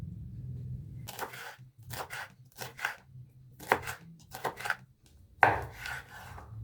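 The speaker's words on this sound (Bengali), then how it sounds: "এবার সবজিগুলো ছোট ছোট টুকরো করে কেটে নেব।" Knife chopping vegetables such as carrot, green chilli and capsicum into small pieces on a board, in short bursts of sharp, close taps separated by brief pauses, with no talking.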